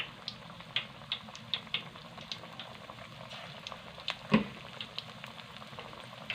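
Small beef pakoras frying in hot oil, a quiet continuous bubbling fizz broken by scattered soft pops and one sharper crackle, heard close with no voices.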